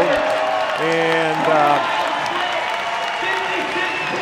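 Crowd cheering and applauding at a track meet during a mile race, a broad, continuous roar of claps and shouts with a commentator talking over it.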